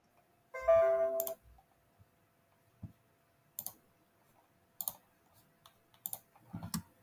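Text being typed on a computer keyboard in bursts of quick, close clicks separated by quiet gaps, with a short tonal beep near the start.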